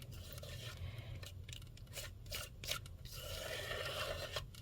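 A palette knife scrapes and rubs across paint on a palette or surface while working reinker ink, giving a series of close rasping strokes with brief pauses and no talking.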